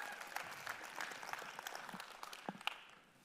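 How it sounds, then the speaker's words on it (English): Faint applause from the crowd at EVE Fanfest 2022 greeting attendees on day one, a soft steady patter of many hands lasting a few seconds. "Give yourself a round of applause, guys."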